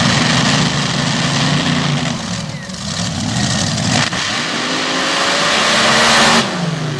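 Paddle tire dirt drag racing vehicles making a pair of runs at a drag strip in Transfer, PA, engines roaring loudly and steadily, the pitch dipping and climbing again as the runs go by.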